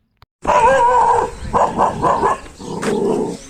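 A dog barks and yips in several short bursts, close and fairly loud, outdoors where kites are being flown, with no one talking.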